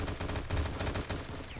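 Rapid gunfire from the War Inc video game, dense bursts of shots crackling back to back with brief gaps, loud and close, with no talk over it.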